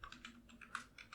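Quick keystrokes on a computer keyboard tap out a short burst of about eight light clicks, faint and close, with no voices.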